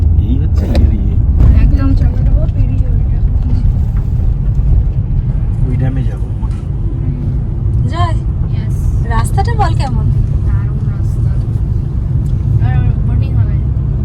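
Car driving along a road through the Jangalmahal forest, with a continuous low engine and road rumble throughout while people talk over it.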